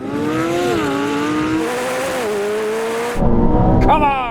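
Sports cars including a Ferrari 296 GTB, McLaren 750S, Lamborghini Huracan Performante and Porsche 911 Turbo launch at a race start, engines revving hard through rising gear pulls, loud and close, ending in a brief roaring burst.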